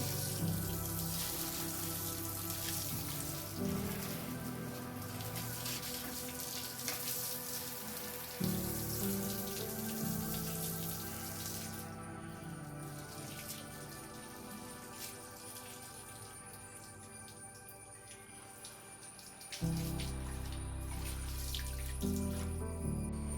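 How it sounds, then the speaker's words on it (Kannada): Water runs steadily from a tap or hose, splashing and trickling into potted balcony plants, with soft background music and no talking. "ಗಿಡಗಳನ್ನು ಕೆಳಗಡೆ ಇಟ್ಕೊಂಡು ನಾನು ನೀರು ಕೊಡ್ತೇನೆ"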